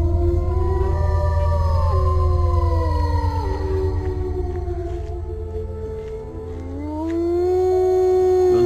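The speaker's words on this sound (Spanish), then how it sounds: "Un coro de lobos aulladores saludó al alba." A chorus of wolves howls together, several long overlapping wails rising and falling in pitch at close range, sustained over a low steady rumble.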